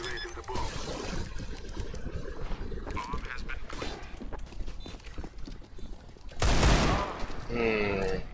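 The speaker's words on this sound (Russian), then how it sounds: "Макар, у меня еще один выстрел был, он бы умер." Gunfire in the video game CS:GO crackles in rapid bursts, loud and close, with a sharp heavy blast near the end and players talking over it.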